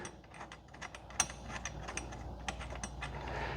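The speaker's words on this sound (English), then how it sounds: "Then start tightening up the bolts." Ratchet wrench clicking as bolts are tightened on touring highway pegs for a Suzuki GSX-S1000GT, with faint, quick irregular ticks and a sharper click near the start over low room noise.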